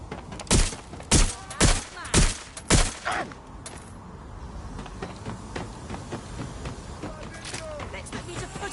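Gunfire in the video game Watch Dogs Legion: five loud, evenly spaced shots ring out in the first few seconds, then quieter game ambience and scattered small impacts follow.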